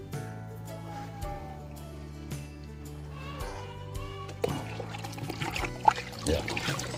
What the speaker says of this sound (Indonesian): Ya, sambil kita aduk agar dia nanti pupuknya merata, baru kita siram 100 mili per pokok.